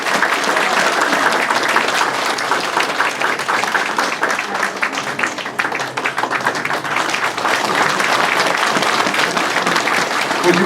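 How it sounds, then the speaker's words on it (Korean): A crowd claps loudly and continuously at a campaign office opening for a Daejeon mayoral candidate, sustained dense applause close by that dips briefly midway, with voices mixed in. "무병장수하시라고 박수 한번 쳐드리세요."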